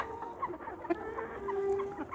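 A flock of layer chickens clucks nearby, with short overlapping clucks and a drawn-out squawk against steady background farmyard noise.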